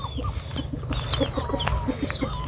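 Several chickens cluck close by in a rural Thai village yard, short repeated clucks in an irregular rhythm with a few higher calls over a steady low background hum.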